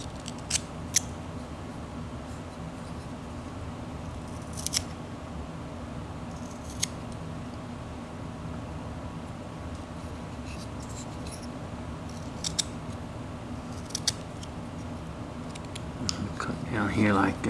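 A whittling knife makes a straight cut in wood for an abstract flat-plane figure, heard as faint scraping with a few sharp, brief snicks over a steady background hum.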